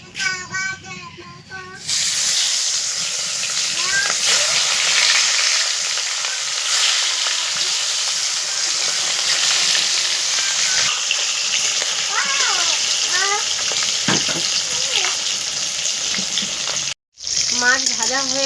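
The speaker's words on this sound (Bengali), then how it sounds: "এবার আমি মাছগুলোকে ভেজে নেব।" Pieces of katla fish coated in salt and turmeric frying in hot oil in a kadai: after a brief opening with a voice, a loud, steady, crackling sizzle fills the rest, dropping out for a moment near the end before resuming.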